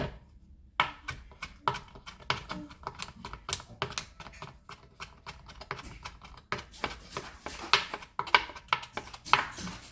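Rapid, uneven knife taps against a cutting board, a dense run of sharp clicks with brief pauses, close and fairly loud.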